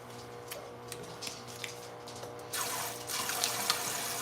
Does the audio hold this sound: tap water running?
yes